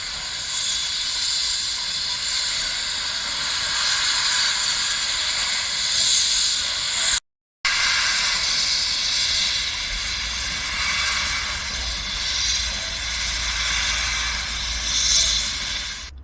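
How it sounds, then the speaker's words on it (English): A steam locomotive passes through a heritage railway station at Cheddleton, working hard with a loud, sustained roar of hissing steam that swells and holds at close range, broken by a short cut midway. "It was nice to see the locomotive go through the station at the end, wasn't it, in full steam."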